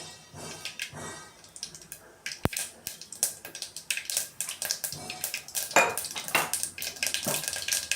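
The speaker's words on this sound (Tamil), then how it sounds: "கடுகு போட்டோடனே பொரியுது, அந்த சத்தம் கேட்குதா பாருங்கள்." Mustard seeds spluttering in hot oil for a vendakkai kara kulambu, a run of quick crackling pops and clinks close by, with a sharp utensil knock among them.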